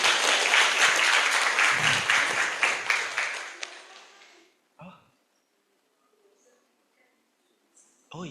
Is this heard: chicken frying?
no